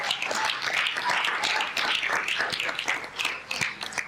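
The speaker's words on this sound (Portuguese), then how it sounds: "Aplaude o Senhor nessa noite." Congregation in a church clapping together during a Portuguese-language evening service, a steady dense patter of hands with a few sharper claps standing out, close and fairly loud for about four seconds.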